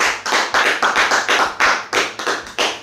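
Wedding guests clap together in rhythmic bursts to acclaim the Lord, a steady series of close, loud group claps with brief gaps between them and no talking.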